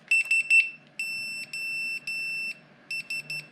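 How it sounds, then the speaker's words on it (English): A ViFly buzzer wired to a KISS V2 flight controller on an Alien 6S quadcopter sounds loud, piercing electronic beeps. Three quick chirps come first, then three longer tones, then a final burst of short beeps, each close and alone. "show you how to connect your ViFly Buzzer to your KISS V2 flight controller"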